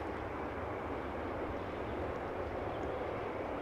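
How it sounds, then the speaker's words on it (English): An Embraer 175 regional airliner on arrival gives a faint, steady distant engine hum, a smooth unbroken drone with no voices. "Embraer 175 arriving from Geneva"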